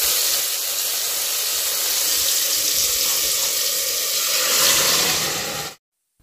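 Onions frying in cooking oil in a saucepan over a countryside cooking fire give a loud, steady close-up sizzle that holds evenly for about six seconds, then cuts off abruptly.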